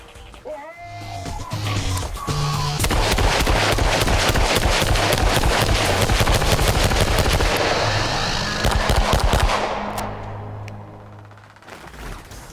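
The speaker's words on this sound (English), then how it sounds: "engaged by sounds of the gunfire from the robots" Sustained rapid bursts of gunfire at a firearms training drill with robotic targets, loud and dense, rattling continuously for several seconds before tapering off into a lingering hum.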